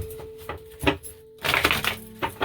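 Tarot cards being shuffled in a few quick riffling bursts separated by short pauses, close and fairly soft.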